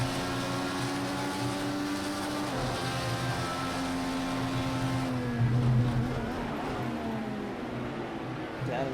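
An IndyCar engine in Project CARS 2 at Circuit of the Americas drones loudly and steadily, then its pitch drops in stepped falls as the car downshifts into first gear for a corner.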